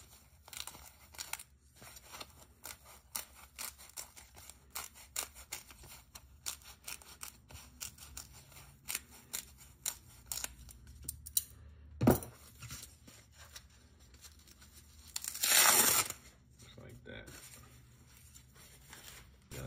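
A thin piece of material is cut out for a DIY air unit replacement while restoring Air Force 1 sneakers, giving a quiet run of small snips and crinkles, plus a couple of louder scraping bursts near the end, with no talking.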